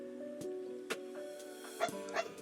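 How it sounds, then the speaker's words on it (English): A dog barks outside a room, a few separate sharp yips and bow-wows spaced across a couple of seconds, muffled by the walls and moderately faint over a steady indoor hum. "I hear my dog barking outside my rooms"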